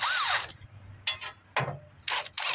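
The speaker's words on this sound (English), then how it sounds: "And just gonna back out those 5/8 bolts." Ratchet wrench backing out 5/8-inch bolts from the thermostat housing of a John Deere backhoe loader, heard as several short bursts of clicking ratchet strokes separated by brief pauses, close and fairly quiet.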